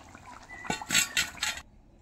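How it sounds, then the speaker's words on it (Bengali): Tangra fish and carrot curry is tipped from the pan into a washed bowl, giving a short, close, wet splash of thick liquid lasting under a second, with a faint clink of the vessel before quiet returns. "এই বাটিটাতে ঢেলে নেব"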